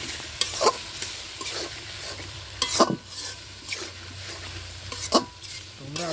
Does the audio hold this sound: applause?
no